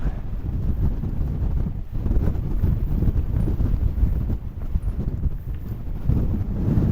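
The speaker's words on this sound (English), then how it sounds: "It's far too windy." Strong wind buffets the microphone throughout on the fells near Lower Man and Helvellyn in the Lake District, a constant loud low rumble with gusty surges and no voices.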